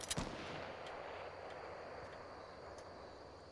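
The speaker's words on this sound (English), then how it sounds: "Someone's shooting." Fortnite gunfire rings out as one sharp, loud shot at the start, followed by faint distant pops over a steady low rumble of game ambience.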